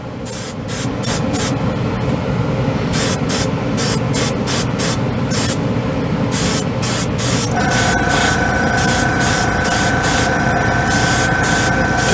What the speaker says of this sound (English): airbrush onto the spoon.